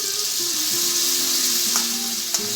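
Onion and tomato paste sizzle steadily in a pan for Delhi-style butter chicken, a loud continuous frying hiss with a faint bubbling tone beneath and a couple of brief clinks near the end.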